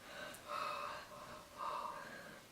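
A storyteller's voice imitates a monster's heavy panting, two long breathy huffs with a pause between, close and fairly quiet.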